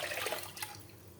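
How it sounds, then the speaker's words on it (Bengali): Water poured onto uncooked rice in a pot, a short, rushing splash that is loud at first and then tapers off quickly, with no voices. "জল দিয়ে চালটা পুরোটা দিয়ে দিই"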